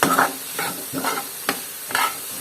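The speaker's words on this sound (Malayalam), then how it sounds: "അതുവരെ നമ്മൾ ഇളക്കുന്നു തിരിച്ചും മറിച്ച്" Onions fry in a pan for a spicy chicken dish, stirred and turned as they brown, giving about five rhythmic scraping, sizzling strokes close up with no talk.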